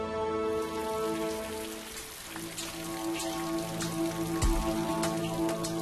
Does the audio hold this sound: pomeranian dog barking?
no